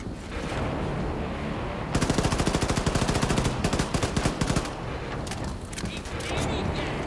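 A semi-automatic pistol fires in the Wolfenstein II video game. Rapid loud shots pop in a fast rhythmic burst over a dense, noisy game soundscape, with bursts of gunfire around them and talk mixed in.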